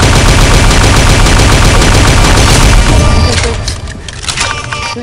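Loud, rapid automatic weapon fire in the shooter game Pixel Gun 3D, a dense continuous burst of shots that tails off into scattered, softer reports near the end.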